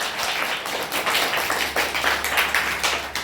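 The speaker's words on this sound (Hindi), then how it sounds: "सृष्टि जी, ताली बजाइए जोर से, जोरदार ताली बजाइए" Applause from an audience at a National Unity Day event, a steady and fairly loud wash of many hands clapping that continues throughout with no talk over it.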